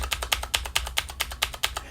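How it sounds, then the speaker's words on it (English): Mechanical keyboard with Cherry MX Blue switches being typed on, about nine crisp, clicky keystrokes at a steady, even rhythm, close and clear with no talking. "that's my QWERTY keyboard, and you can hear these are MX Cherry Blue."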